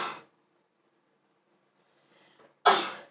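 A single sharp sneeze bursts out at the end after a short sound at the very start and near silence between, a faint breathy intake just before it, close and loud.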